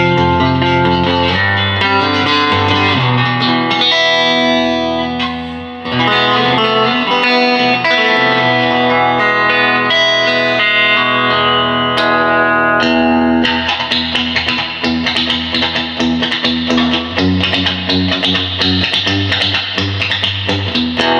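Electric guitar played through a vintage 1960s Fender Princeton amp turned down low with its spring reverb at maximum, sustained chords washing into a dense, continuous reverb tail, loud and unbroken apart from one brief dip.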